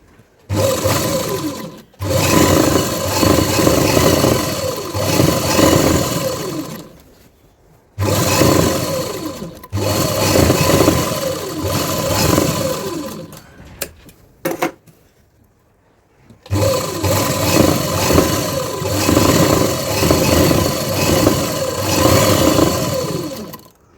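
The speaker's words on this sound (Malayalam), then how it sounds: "ഇനി ഒരു പ്രസര വീതിയിൽ അതിൻ്റെ ഇപ്പുറത്തേക്ക് 2 സ്റ്റിച്ച് കൊടുക്കുക" A sewing machine stitches a saree blouse, whirring loudly and close in three long runs separated by short stops, with a few brief clicks in one pause.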